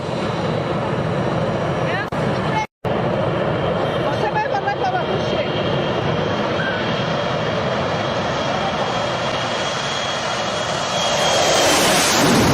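An airplane engine drones loudly and steadily throughout during a very slow takeoff, with a brief dropout near the start and the roar swelling slightly toward the end.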